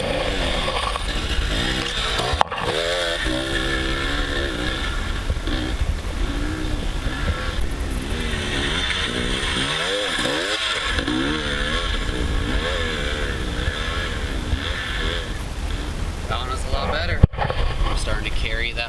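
Dirt bike ride through a set of sand whoops, the engine droning steadily at a held throttle with wind and sandy scrape throughout, a sharp knock near the start and again near the end, a voice talking over it.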